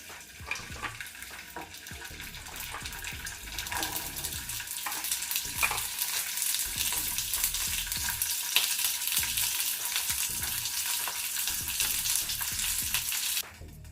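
Tamarind frying in about half a teaspoon of oil in a pan, giving a steady close sizzle with occasional stirring scrapes throughout, no voices.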